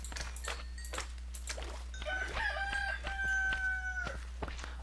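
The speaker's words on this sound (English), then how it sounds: "you just heard the rooster crow" A rooster crows once in the Minecraft mod Sim-U-Kraft, a long rising then held call standing clearly above a steady low game hum, with soft clicks around it.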